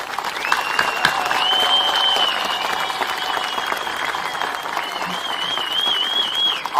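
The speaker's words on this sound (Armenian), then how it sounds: "Շնորհակալ եմ, իսկապես այս ծափահարությունները ձեզ" A crowd claps steadily and loudly for about seven seconds, filling the air at a campaign speech for a local government election, with the applause barely dipping from start to finish.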